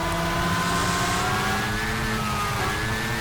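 Race car engine stuck in third gear in a racing sim, held at high revs with a steady, loud whine that wavers slightly, alone without voices.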